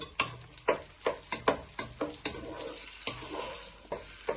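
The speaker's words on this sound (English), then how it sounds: "You give these a little bit of a stir. 3 to 5 minutes to go nice and brown." Sausages browning in a pot for a sausage and lentil stew sizzle under a series of sharp utensil knocks and scrapes from stirring, close by and roughly rhythmic, with no voices.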